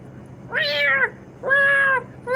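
A cat meows three times close up: two long, clear, drawn-out meows and the start of a third, with quiet pauses between.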